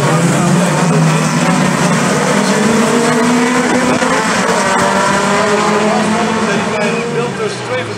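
Race cars in a Standaard klasse 2000 race brake hard with locking brakes and smoking tyres, a loud, close roar of engines and squealing rubber sustained throughout with a commentator talking over it.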